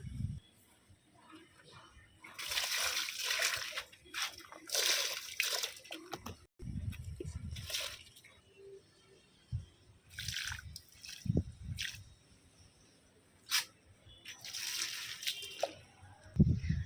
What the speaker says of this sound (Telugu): ఇలా అన్ని మొక్కలకి వాటరింగ్ చేసేయండి